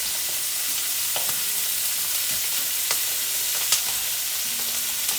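Padrón peppers sizzle and crackle in a hot frying pan, a steady hiss close by with scattered sharp pops.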